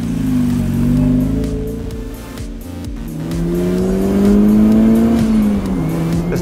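A turbocharged 1990 first-generation Mazda Miata drives loudly and close, its engine note rising and falling through gear changes with a steady rumbling drone and no talk over it.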